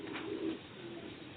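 A Sialkoti pigeon kept for sale coos once, soft and faint, in a quiet setting.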